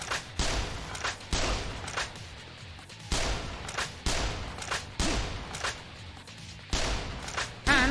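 Sniper rifle shots in the video game Yakuza: Dead Souls, about eight loud, sharp reports spaced roughly a second apart, each with a booming tail and echo.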